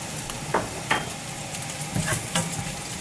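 Bacon crisps in a pan with a continuous close sizzle and crackle, punctuated by a few scraping stirs of a utensil against the pan.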